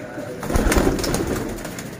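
Flying pigeons coo softly and repeatedly in a loft, the calls blending into a steady murmur of background noise.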